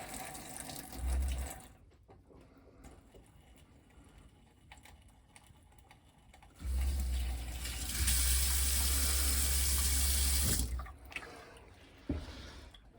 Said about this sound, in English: I can trickle the water now